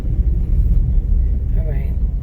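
A car moves close by on a Lagos street, a low steady rumble under people talking.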